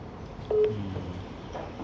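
A phone call being dialed, with a short tone burst of dialing beeps near the middle followed by a faint low hum, fairly quiet with no talk.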